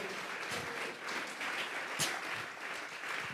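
A church congregation gives a round of applause during a Spanish-language worship service, steady close clapping from many hands lasting a few seconds with no talk over it.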